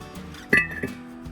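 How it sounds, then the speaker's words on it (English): Small bearings from a truck clink faintly as they are handled, two light metallic taps close together with no talking. "Boy, these are little bearings, eh?"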